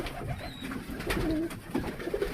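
Pigeons coo in a loft, soft low burbling calls repeating a few times, near but modest in level over a faint roomy background with some rustling.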